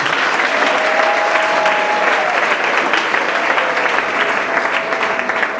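A church congregation applauding God: a steady, full wash of clapping from many hands, even and continuous from start to finish, with a faint tone running beneath it.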